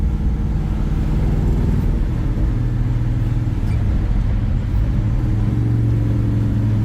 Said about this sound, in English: Car sounds incredible.